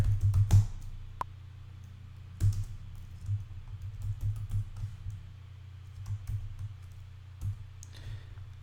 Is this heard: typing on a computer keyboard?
yes